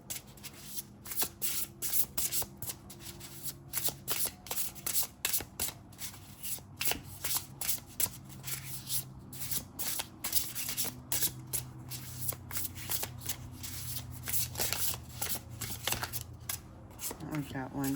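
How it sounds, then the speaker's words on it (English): A tarot deck is shuffled by hand in quick, crisp riffling bursts that repeat close up, with short pauses between runs. A voice talks over the card noise. "I'm gonna stick it in the middle and start over"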